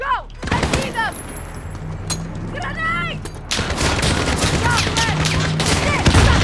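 Rapid gunfire bursts from a Call of Duty Modern Warfare (2019) campaign firefight, loud and sustained, with shots crackling in dense volleys, especially in the second half, while voices shout over the combat.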